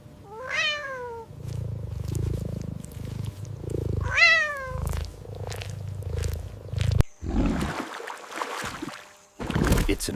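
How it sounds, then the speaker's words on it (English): A cat in a wild-animal sound collection, giving two rising, harmonic meow-like calls over a steady low rumbling purr, followed by a burst of broadband noise near the end. "It's a cat."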